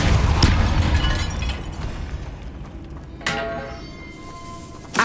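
A Depulso force spell cast in Hogwarts Legacy inside a tomb, a loud burst at the start fading into rumble, then a second sharp blast-like hit midway and a brief thump at the end.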